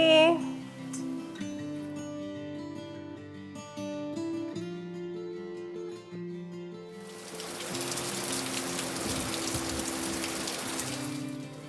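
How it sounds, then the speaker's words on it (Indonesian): Rain starts partway through, a steady broadband hiss of falling rain that builds and continues over soft background music. "Ya, bener kan? Hujan."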